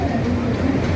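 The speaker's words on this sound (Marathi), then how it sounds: "ट्रेनचे आवाज चालू आहेत, ट्रेन येणारच आहे" A train rumbles at a local railway station, a steady low wagon drone with faint clatter filling the whole short stretch, with some crowd murmur and background noise mixed in.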